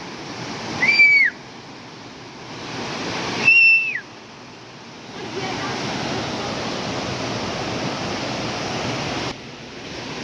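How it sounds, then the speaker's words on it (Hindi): A river in flood rushes loudly beside a mountain village path, a constant broad roar with two short whistles rising over it early on. "इतनी तेज़ आवाज़ आ रही है नदी की"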